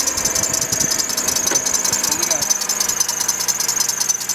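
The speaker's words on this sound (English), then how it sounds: "Got a little squeak, as you can hear." A GMC Envoy engine idles with a small repeating squeak from a worn tensioner pulley, a steady high chirping over the low engine hum, heard close up.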